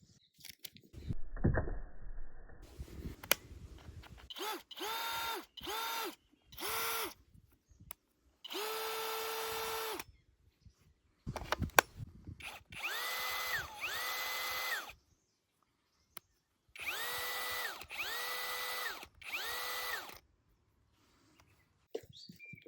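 Parkside Performance C3 and C4 cordless drills run in short bursts one after another, each a whirring motor spin-up and spin-down, with quiet gaps and handling clicks between them.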